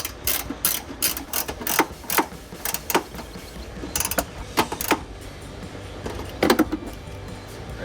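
A 10mm socket on an extension turns under a ratchet as a front bolt is tightened during a cold air intake install on a 2022-2024 Toyota Tundra, giving close, quick bursts of sharp clicks separated by short pauses.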